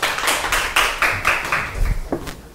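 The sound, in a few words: audience applause for a lecture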